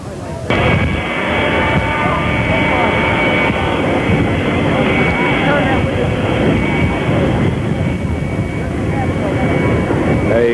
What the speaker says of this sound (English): Now Air Force Number One taxiing in.